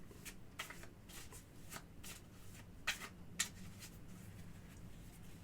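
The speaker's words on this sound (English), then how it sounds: "I'm just going to go ahead and shuffle these cards" Cards riffled and shuffled several times in quick bursts for a card reading, crisp and close, with a faint low hum underneath and no talking.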